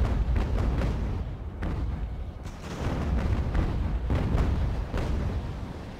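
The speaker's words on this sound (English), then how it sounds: "he's shooting at my sails." Ship cannons firing at sails in Ultimate Admiral: Age of Sail, a rapid series of heavy booming shots and rumbling blasts rolling one after another, loud and close throughout.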